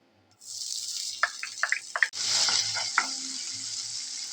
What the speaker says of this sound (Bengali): এবার আমি আদা রসুন কুচিটা এর মধ্যে একটু ফ্রাই করে নেব।